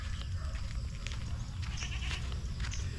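Several goats bleat on a farm, their calls rising in brief, clear bursts over a steady low rumble of outdoor noise.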